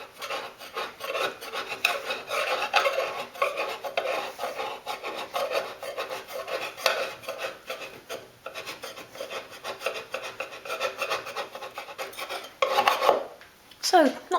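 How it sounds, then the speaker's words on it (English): Old wallpaper being scraped and peeled from a dolls house wall: continuous close rasping and rubbing strokes, fairly loud, with a brief louder scrape near the end. "let's get back to removing the wallpaper"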